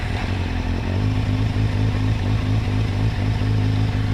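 A motorcycle engine with four carburetors runs steadily after starting, a loud, even mechanical drone with a continuous low rumble and no talk.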